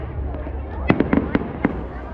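Filipino fiesta fireworks going off in a rapid cluster of five or six sharp cracks and pops, moderately close, with faint outdoor voices and background hum.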